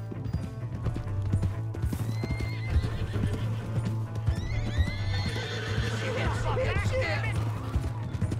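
Horse hooves and neighing in the Red Dead Redemption 2 video game, with steady clip-clop hoofbeats over a low game hum and loud whinnies in the second half, voices mixed faintly in.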